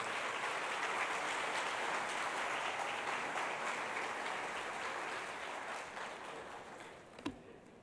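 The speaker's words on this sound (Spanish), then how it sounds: "Vamos a darle un fuerte aplauso a Eudy Serpa." Conference audience applause at an information security congress, a dense continuous wash of clapping that gradually thins toward the end, with a single sharp knock near the close.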